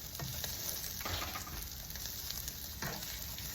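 Ginger sizzles and fries steadily in a hot pan of oil as the base for a turkey curry. The crackling hiss is constant and close, with a few stirring scrapes and no talk.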